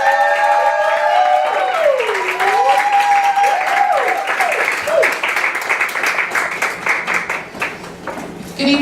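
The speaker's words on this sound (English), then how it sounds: "please give a big round of applause for Judge Lisa Otley." Applause at a winter gala swells beneath music with a sustained tonal melody, the clapping growing more prominent and dense over the last few seconds.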